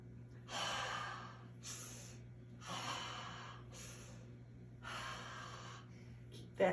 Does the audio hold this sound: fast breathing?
yes